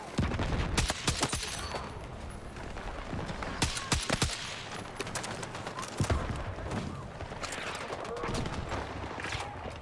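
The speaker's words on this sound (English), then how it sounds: "I can't even fire it at max fire rate because the gun's too inaccurate when max fire rate." Rapid bursts of gunfire from a weapon in a live-streamed shooter game, dense and loud with sharp repeated shots over a busy mix of game sounds throughout.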